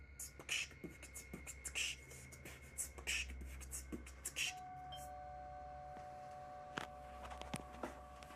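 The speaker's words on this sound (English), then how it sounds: "someone is at the front door ringing the doorbell" A two-tone doorbell chime rings four times at a steady pace, each ding-dong clear and ringing out over a quiet room with faint background hum.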